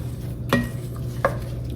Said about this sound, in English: So we want to stir these together to be sure our jalapenos are coated nicely.